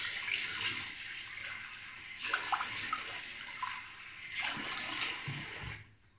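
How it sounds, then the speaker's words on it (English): Cold water runs from a tap for a rinse after shaving, a continuous hissing splash that swells and dips as hands pass through the stream, then cuts off. "Cold water rinse."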